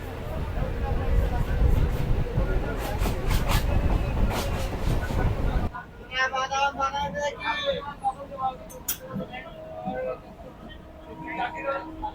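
A Sealdah–Hasanabad local train pulls out of Harowa station, its steady rumble and rail noise loud at first, then dropping to quieter clatter with horn-like tones and talk in the background.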